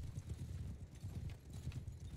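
Horse hooves clip-clop steadily in a strategy video game, a continuous rhythmic trotting over a low rumbling bed of game sound, with no talking.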